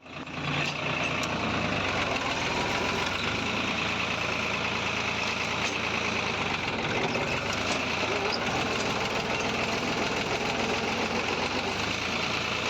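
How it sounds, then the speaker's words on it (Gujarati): A tractor engine runs steadily and fairly loud while the machine turns at the end of a furrow in a farm field during ridge-making, a continuous low rumble throughout with a voice talking underneath. "આ જ રીતે ટ્રેક્ટર જો વળી ગયું છે"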